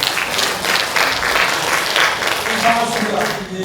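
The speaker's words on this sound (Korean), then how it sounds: "박수로 모셔보겠습니다." Applause from a symposium audience greeting a speaker, steady dense clapping that fills the whole stretch at even loudness, with faint voices and a thin tone underneath.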